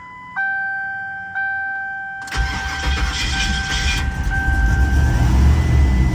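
A turbocharged Ford Crown Victoria cranks after three weeks sitting: two electronic chimes, then the starter catches and the engine fires into a loud, rough rumbling idle close by.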